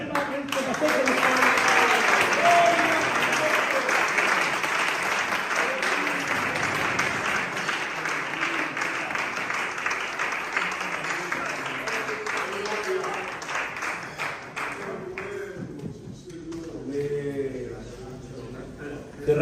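Church congregation applauding during a service, a long stretch of steady clapping with speech and background music running through it, fading toward the end.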